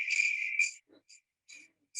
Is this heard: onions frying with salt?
no